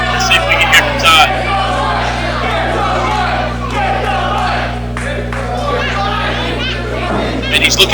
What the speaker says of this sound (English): the crowd letting them know they want to see it again